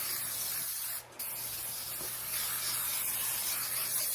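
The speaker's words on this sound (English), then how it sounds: "Some non-stick spray." Non-stick cooking spray hisses into a 9 by 13 baking dish in a steady, close spray, broken by one brief pause.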